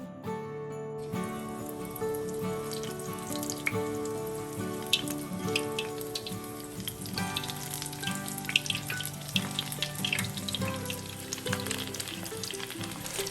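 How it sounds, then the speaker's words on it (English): Breaded coconut shrimp sizzle steadily in hot oil, a dense crackling fry with scattered pops and spits that holds close and even throughout, no voices over it. "My oil is perfectly hot now, and I can go ahead and start frying them."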